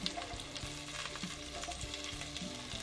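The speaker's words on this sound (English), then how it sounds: "In the same pan, add the onions and green chilies." Onions and green chilies fry in the same pan used for fish with taro roots, a steady close sizzle broken by occasional clicks and scrapes of stirring.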